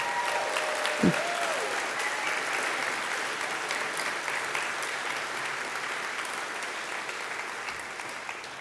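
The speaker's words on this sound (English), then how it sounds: "give everyone in attendance a moment to celebrate the accomplishment of their graduate with a round of applause" Audience applause at a Physician Assistant Program graduation ceremony, a steady broad wash of clapping from a large crowd that continues evenly throughout, with a brief whistle-like tone near the start.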